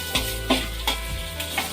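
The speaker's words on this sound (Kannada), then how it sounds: "1 ನಿಮಿಷ ಇದನ್ನು ಹಾಗೆ ಕೈ ಆಡ್ತಿದ್ದೀನಿ. ಎಣ್ಣೆಯಲ್ಲಿ ಫ್ರೈ ಆಗಿದೆ." Soaked green gram frying in oil being stirred with a spoon in a pan, a steady sizzle under a series of light, evenly spaced scraping clinks, close and alone.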